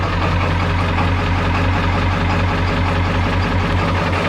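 A 1995 Ford F-350 XL with the Powerstroke diesel idling just after a cold start, steady loud low rumble with a rough, clattering pulse, close by and unbroken.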